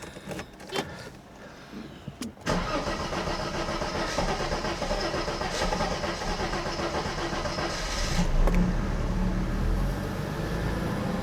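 A car engine idles after a rough idle fix in a snowy setting: a few clicks and a start, then a steady continuous engine hum that swells slightly near the end, with no talk.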